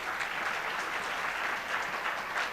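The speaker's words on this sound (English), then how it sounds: "I think that deserves a good clap." A business leaders awards event audience claps steadily, a dense, even applause from a large crowd that holds throughout.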